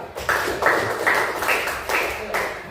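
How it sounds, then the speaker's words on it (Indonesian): Students in a classroom clap a patterned rhythm for a student group, several evenly spaced bursts of hand claps, close and fairly loud, with voices mixed in. "Tepuk tangan lagi buat kelompok 3."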